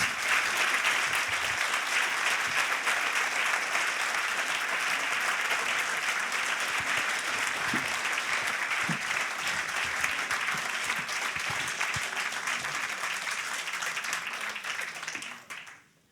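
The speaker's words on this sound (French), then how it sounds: "je vous demande un tonnerre d'applaudissements, s'il vous plaît, à Madame Sayas" Thunderous applause from a conference audience greets an Afghan writer and human rights defender, a thick, sustained roar of clapping holding steady for about fifteen seconds before fading out at the end.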